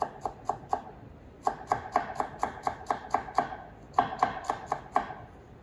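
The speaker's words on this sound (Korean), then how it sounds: "자, 썰어서 다져주세요." A kitchen knife chops and minces vegetables on a cutting board while preparing Korean bellflower root salad, making brisk, close, rhythmic knocks in quick bursts with short pauses between them. No one speaks.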